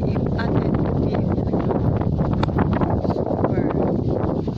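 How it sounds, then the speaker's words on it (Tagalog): Steady, roaring wind buffets the microphone throughout, a dense rushing noise with gusts and heavy rain mixed in, in Cavinti, Laguna. "Nagkataon pang malakas ang ulan. Ang hangin."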